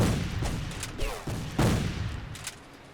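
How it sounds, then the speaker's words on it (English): Gunfire sounds from a Civil War video game, with a rattling volley of musket shots followed by a couple of dull booms, fairly close over a rumbling background. "Oh, that's what he's shooting at."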